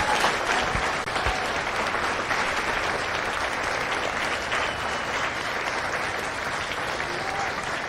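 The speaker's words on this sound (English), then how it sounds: "Ladies and gentlemen, a round of applause for their dedicated service to Corps and country." Sustained applause from a large crowd at a Marine recruit graduation at MCRD San Diego, steady and even for several seconds, with no voices standing out.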